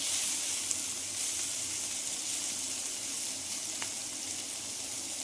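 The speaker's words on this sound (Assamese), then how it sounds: "ঢাকন এখন দি অলপ সময় ভাজিছোঁ" Food fries in a covered pan, giving a steady soft sizzle with a faint watery hiss and one brief click.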